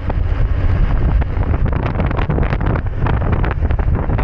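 Strong coastal wind near Bitoon Beach, San Roque, Southern Leyte during a ride: a steady, heavy rumbling roar with choppy gust pulses hitting the microphone, close and loud, with no talking.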